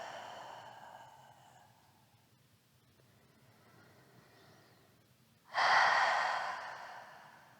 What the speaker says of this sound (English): maybe once again, some open mouth exhales